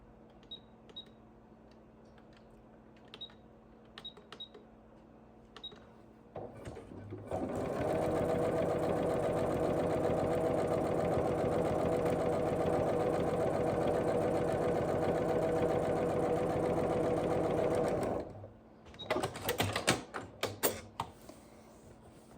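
A sewing machine runs a straight stitch seam in a steady, fast whirring burst of about ten seconds, framed by small clicks and handling sounds before and after.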